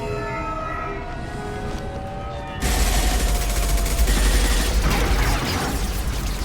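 Loud gunfire and a wailing siren in a Mass Effect Legendary Edition battle: a sustained tone builds alone before a sudden, dense burst of shooting and explosions takes over and continues steadily to the end.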